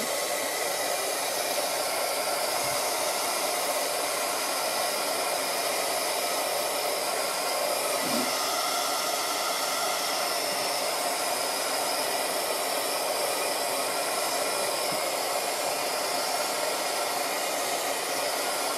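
Hair dryer blowing steadily on freshly painted DecoArt mini Buddha figures: a loud, constant whooshing roar close by, unbroken for the whole stretch, with no talk.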